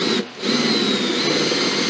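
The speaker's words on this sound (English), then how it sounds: "I've got the bit installed in my screwdriver, my electric driver here." A handheld electric driver set in reverse, fitted with a Speedout extractor bit, drills out a damaged screw. It gives a steady, close, continuous motor whine with a brief dip near the start, and no one speaks.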